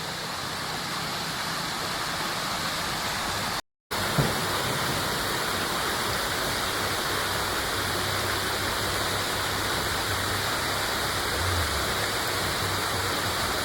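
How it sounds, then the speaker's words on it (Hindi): A waterfall near the trail to Mangi Tungi in Maharashtra roars steadily and continuously, a dense, unbroken rush of falling water with a brief dropout partway through. "दिखाता हूँ आप लोगों को वाटरफॉल"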